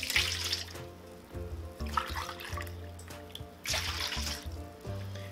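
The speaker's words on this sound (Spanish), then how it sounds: "Ahorita voy a agregar el vinagre." Vinegar poured into a container for pickling: a steady watery pour and trickle running throughout, with some clinking and louder splashing bursts.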